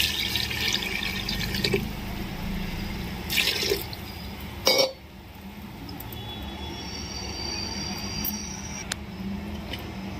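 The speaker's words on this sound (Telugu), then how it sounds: "ఇప్పుడు మటన్కి సరిపడంత వాటర్ వేసుకొని" Water poured into a pot of frying mutton curry with spinach, a bubbling, hissing rush from hot contents that rises briefly and then settles into a quieter simmering sizzle.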